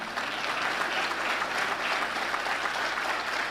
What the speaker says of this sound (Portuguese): Vamos aplaudir Jesus por isso?